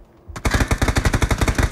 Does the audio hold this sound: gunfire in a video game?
yes